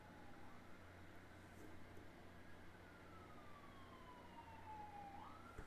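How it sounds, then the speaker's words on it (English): Sirens wail outside a house, a rising and falling emergency-vehicle tone drifting in from a distance, faint but steady over low background hum with no talking. "Sirens outside my actual house."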